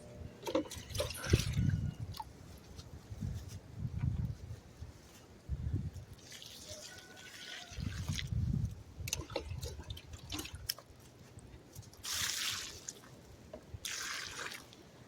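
Water splashes and trickles in uneven bursts as it is poured onto Kennebec potato plants in a vertical garden, with some hissy spray and faint movement between pours.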